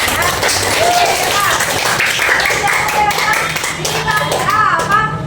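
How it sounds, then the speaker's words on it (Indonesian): A class of students claps for a classmate in a school lesson, loud steady hand-clapping filling the room for several seconds with children's voices talking over it. "Oke, tepuk tangan dulu Andan"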